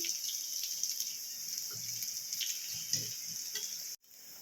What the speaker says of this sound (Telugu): అల్లం ఫ్రై అయింది కదా